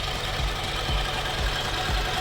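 A Vauxhall Cavalier Mk2 engine idles under the bonnet with a steady low rumble and faint rhythmic knocking pulses, close and continuous with no one talking.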